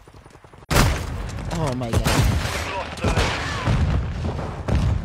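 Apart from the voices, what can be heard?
flash grenade thrown in a video game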